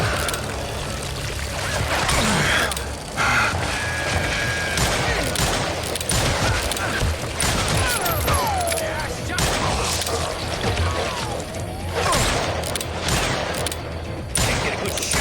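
Gunfire in the Western shooter Call of Juarez: Gunslinger, a dense run of repeated shots and bursts layered over game ambience, music and voice lines, steadily loud throughout.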